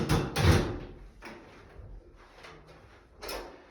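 A 900 by 600 metal loft hatch door with a polystyrene infill being opened with an extended T-key, giving a few close clunks and a sliding metallic scrape, spaced out over a few seconds.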